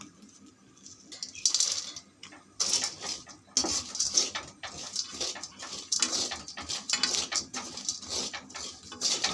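Chickpeas are stirred and roasted in hot salt in a pan, giving a busy, uneven scraping and rattling with gritty hisses and clinks in irregular bursts, close up and with no talking.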